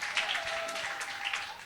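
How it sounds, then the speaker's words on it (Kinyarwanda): A church congregation applauding at a wedding service, a short burst of steady, fairly faint clapping with no voices over it. "Amashyi menshi ku Mana yacu."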